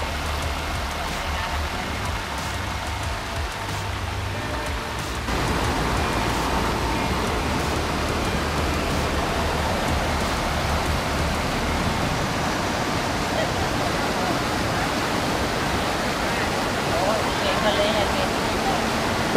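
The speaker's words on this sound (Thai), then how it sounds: "อันนี้คือเป็นลานน้ำตกใหญ่นะชั้นล่างนะ" Continuous rushing water roars steadily at Chet Si (Rainbow) Waterfall in Bueng Kan, Thailand, growing noticeably louder a few seconds in and staying dense throughout.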